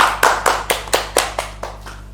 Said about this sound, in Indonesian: Tepuk tangan untuk Mas Ferdian